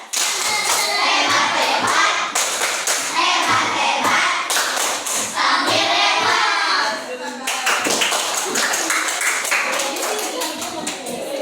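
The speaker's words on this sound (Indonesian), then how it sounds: "Oke, tepuk hebat dulu." Children clap a rhythmic chant together in a classroom, sharp hand claps and thumps in quick patterned bursts, close and loud throughout, with a brief pause near the middle before the clapping resumes.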